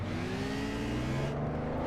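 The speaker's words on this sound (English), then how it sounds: "but as I think that was Jake that's just gone past him" A historic race car sweeps past on the Dundrod road circuit during a two-hour Tourist Trophy race. Its engine makes a loud, sustained drone that stays close throughout, then eases off slightly near the end.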